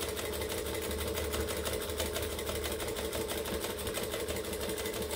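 A sewing machine stitches across a bag in a steady, fast mechanical whir that runs the whole time without a break, close by, with no voices.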